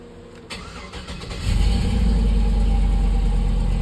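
A truck with a swapped 5.3 V8 cold starts: a short cranking whir, then the engine catches and settles into a deep, steady, loud idle close by, with no voices.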